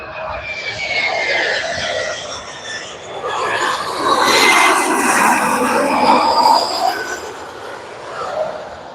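A United SkyWest E-Jet airliner at LAX roars past close and loud, a broad rushing jet noise with whining engine tones that swells toward the middle and eases off.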